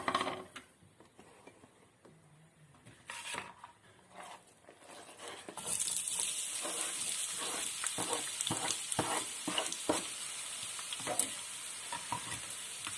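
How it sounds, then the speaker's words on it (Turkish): Turkey meat sizzles and crackles steadily in a hot pan, starting quieter and growing into a loud, continuous frying hiss with scattered pops and stirring clatter. "Kolay pişmesi için kızartma işlemine geçiyorum."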